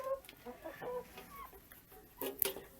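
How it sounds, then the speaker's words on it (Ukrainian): Seven hens and a rooster clucking softly nearby in short, scattered bursts, with a sharper squawk near the end. "Лишилося в мене тут сім курочок і півник."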